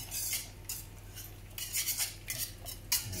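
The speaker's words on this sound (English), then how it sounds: "langoustine tails going in there now, which I've just diced up" Diced, already-cooked langoustine tails are stirred into a sauce in a pan, with a spoon scraping and clattering against the metal in several short, close bursts.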